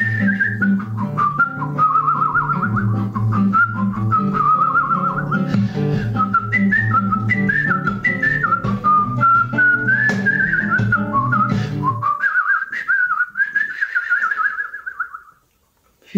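A storyteller whistles in imitation of a blackbird's song, a lilting, warbling melody carried over sustained low instrumental accompaniment. The accompaniment drops out near the end and a final solo phrase fades.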